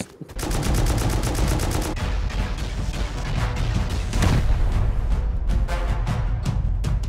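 Sustained automatic fire from an M249 machine gun in the survival game Rust, loud rapid bursts rolling on almost without pause for several seconds.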